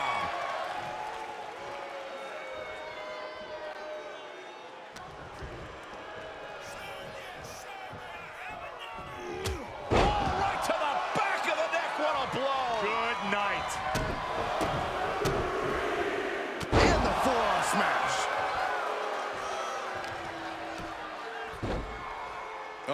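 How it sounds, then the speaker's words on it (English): A wrestling powerbomb slam in the WWE 2K24 video game, sharp impact thuds on the ring mat over a roaring arena crowd, with commentators talking throughout. "Slamming him down into a powerbomb."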